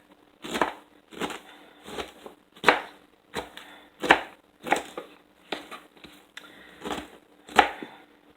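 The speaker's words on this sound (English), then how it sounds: "I'm just going to do a little bit more rough chopping here" Rough knife chopping of cabbage on a cutting board, about a dozen crisp, crunchy chops at a steady rhythm, close by, with no talking.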